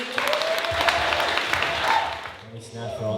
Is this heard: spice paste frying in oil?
no